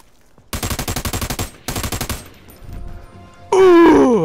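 Rapid automatic gunfire from a video game, two loud bursts of evenly spaced shots with a short gap between them, followed by quieter rumbling and then a sharp wailing, sweeping tone.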